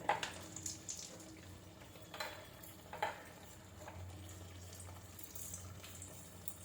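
Curry leaves fry in ghee as a quiet, low sizzle, interrupted by several light stirring scrapes and taps near the start and middle, then settling into a faint steady hiss.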